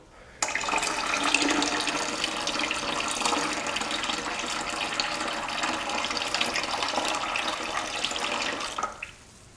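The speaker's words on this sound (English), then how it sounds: "pour the excess water out of the container, making sure not to disturb the settled clay below" Excess water poured steadily out of a container of settled clay, a continuous close splashing stream lasting several seconds before stopping abruptly.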